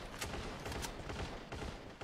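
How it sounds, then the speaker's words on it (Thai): Gunfire in the mobile battle-royale game Free Fire during a competitive esports match, a steady wash of distant shots with a few sharper cracks popping out of a dense, noisy mix. "นี่เสียงปืนดังสนั่นแล้ว"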